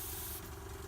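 A steady, close hiss of an airbrush spraying paint onto paper, continuous and even throughout, while painting a miniature figure.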